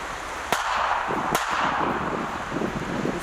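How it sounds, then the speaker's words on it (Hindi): A Russian howitzer firing on a Ukrainian mechanized brigade, heard as two sharp, loud bangs about a second apart over constant wind-like noise, with no talk. "रूसी होवित्जर ने यूक्रेन की मैकेनाइज्ड ब्रिगेड पर हमले को अंजाम दिया"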